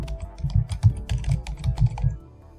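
Quick typing on a computer keyboard, a rapid run of close, crisp key clicks for about two seconds before stopping, with no talking.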